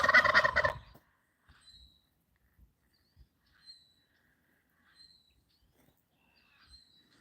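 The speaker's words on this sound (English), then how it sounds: "You guys want to gobble again for me?" Male turkeys in a forest let out one loud, rattling gobble right at the start, followed by near silence broken only by a few faint, scattered chirps and small knocks.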